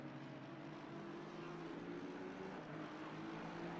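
Aston Martin race car in a sim racing game at Misano, its engine droning steadily with a constant harmonic whine throughout, loud and continuous with no other sounds.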